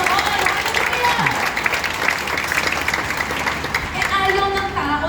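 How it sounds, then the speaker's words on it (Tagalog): Loud, continuous clapping fills a church prayer revival meeting, with crowd cheers mixed in and a voice calling out over the applause. "Isa pa po malakas na palakpak sa Amen."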